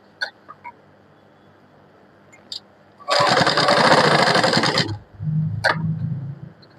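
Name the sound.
sewing machine stitching a baby kurti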